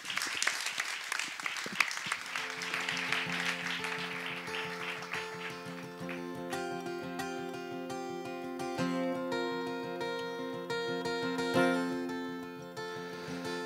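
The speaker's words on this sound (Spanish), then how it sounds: "les pido por favor un aplauso para Joel López." An audience applauds steadily at a ceremony for International Press Freedom Day, with dense clapping that carries on throughout. Sustained musical tones rise up under the clapping partway through.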